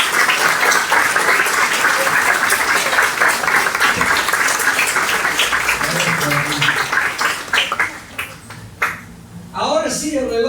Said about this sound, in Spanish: ¿Les pueden dar un aplauso?